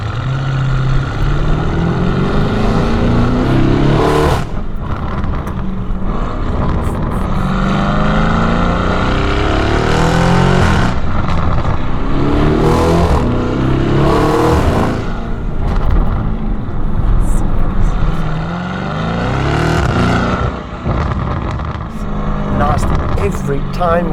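A Novitec-tuned Lamborghini Urus on African roads drones with a loud engine and exhaust, rising and falling through repeated revs, heard from inside the cabin under continuous conversation.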